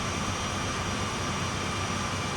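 Both diesel engines of a CSX heavy-haul freight locomotive run in Train Sim World while it climbs a hill. They make a steady, dense, low mechanical roar with no change in rhythm, and no one speaks.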